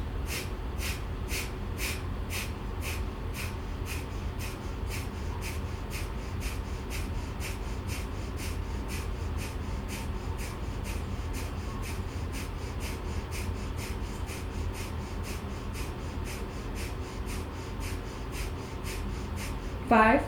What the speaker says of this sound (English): Right back to breath of fire.